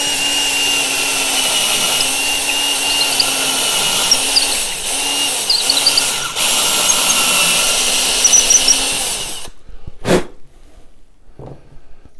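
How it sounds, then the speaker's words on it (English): A power drill bores a hole through a wooden hiking stick topper held in a jig, a close, loud, steady whine for about nine seconds that wavers under load, then stops, followed by a couple of sharp knocks. "Proceed to drill the hole."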